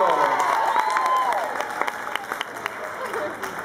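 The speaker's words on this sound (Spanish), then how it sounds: "Fuerte el aplauso para ellos." Applause from a live audience for a group of young performers, steady clapping with some sharper claps standing out, a crowd voice or two mixed in underneath.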